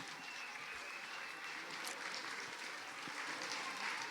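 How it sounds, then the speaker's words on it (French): An audience applauds as a school class walks onto the stage at a children's singing event, a soft, continuous, distant patter of clapping filling the hall. "une autre classe de l'école Jatteau qu'on applaudit et qui rentre en scène"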